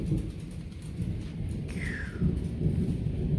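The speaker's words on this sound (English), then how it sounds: "You hear the thunder." Low rolling thunder rumbles under a steady wash of rain, with a brief whistling tone partway through.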